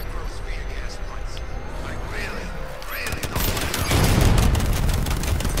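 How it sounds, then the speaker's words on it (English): A missile launches in the Batman: Arkham Knight video game, a loud roaring burst that builds into a sustained heavy rumble and blast after a stretch of quieter game ambience with faint voices. "That was a waste of a missile."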